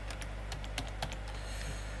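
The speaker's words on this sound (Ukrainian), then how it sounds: "Так само ведемо з клавіатури." Computer keyboard typing during a Python programming lesson, a quick run of crisp key clicks with a couple of louder strokes, close to the microphone over a steady low hum.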